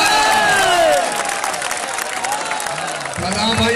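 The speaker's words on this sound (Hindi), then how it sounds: "तालियां" Crowd at a stadium match claps and cheers in a loud, busy burst, with shouts and a nearby voice speaking over the noise toward the end.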